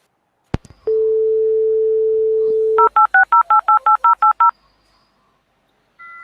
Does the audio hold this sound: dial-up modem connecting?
yes